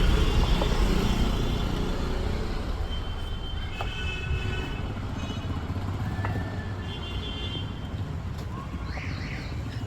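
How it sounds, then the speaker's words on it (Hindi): Street traffic ambience with passing motor vehicles and engines rumbling continuously, occasional horn-like tones and bird chirps scattered over the steady road noise. "मैंने ये जानबूझ के ट्रैफिक की आवाज़ यहाँ पर डाली ताकि लोग इजीली इससे रिलेट कर पाए कि आसपास ट्रैफिक है"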